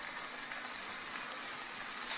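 Salmon frying in a pan for teriyaki salmon, a steady, even sizzle that holds at a constant low level for a couple of seconds without any voices.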